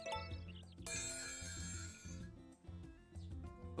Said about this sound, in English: How does this bell work?